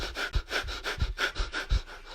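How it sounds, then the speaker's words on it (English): Breath of fire: rapid, forceful rhythmic exhalations through the nose, about three per second, close and quiet, with soft low puffs against a microphone and no talking. "we're going to do something called breath of fire"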